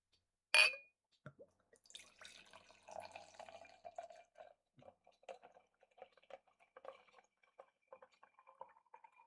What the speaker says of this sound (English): let's get into the theatrics of a 5-minute pour into our Harpoon Snifter